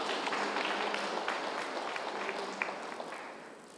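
An audience clapping together at a community service event in Khammam, a steady wash of applause that gradually fades toward the end, moderately distant, with no talk over it.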